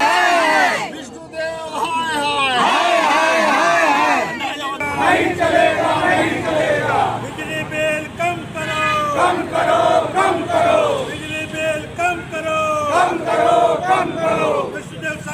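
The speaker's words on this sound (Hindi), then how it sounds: "रायपुर के बूढ़ापारा जोन में कांग्रेस कार्यकर्ताओं ने हाथों में लालटेन लेकर विरोध जताया।" Congress party workers at a street protest in Raipur's Budhapara zone, holding lanterns, shout slogans together. The loud crowd chanting rises and falls in repeated bursts, with some voices rising above the massed yelling.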